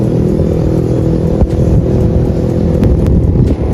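A Honda CBR150R motorcycle fitted with an aftermarket exhaust idles loud and close with a throaty, uneven rumble, with small rev blips and a few sharp pops throughout.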